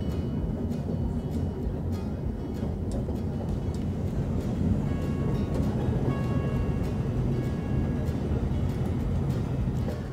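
Brienz Rothorn Bahn mountain train running on its Swiss alpine line, a steady rumbling rail noise with a constant mechanical drone and faint tonal whine, heard alone at moderate distance.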